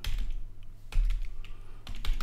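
Computer keyboard typing while entering alt text during web coding, a few bursts of close clicking keys over roughly two seconds with low background hum and no speech.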